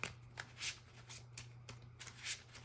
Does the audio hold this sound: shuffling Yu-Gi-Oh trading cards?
yes